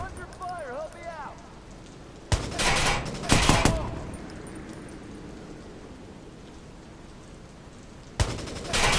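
Bursts of gunfire in the video game Watch Dogs, several loud rapid volleys spaced apart over a hiss of rain, with brief in-game voice chatter early on.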